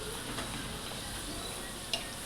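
A steady, close sizzle of dough frying in hot oil, a continuous crackling hiss with one brief clink near the end.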